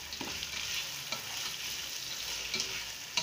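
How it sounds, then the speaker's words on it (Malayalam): Onion frying in a pan for a Kerala-style horse gram thoran, with a steady close sizzle and a few scraping stirs of a spoon, no voices. "അതിൻ്റെ ഉള്ളിലേക്ക് നമുക്ക് സബോള ഇടാം. ഇളക്കി കൊടുക്കുക."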